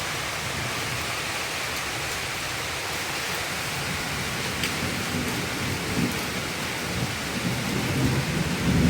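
Heavy rain pours down in a dense, continuous roar that builds slightly louder toward the end, with low rumbling and no speech.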